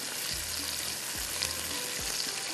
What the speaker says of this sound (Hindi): और इसको करते हैं अच्छी तरह से फ्राई।